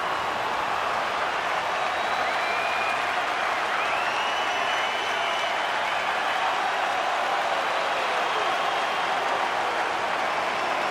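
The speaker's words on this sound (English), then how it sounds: "You can feel the energy in this crowd." In the NHL 26 video game, an arena crowd roars and cheers during a tied hockey match, a dense, unbroken wall of noise at steady loudness throughout with faint whistles and calls cutting through.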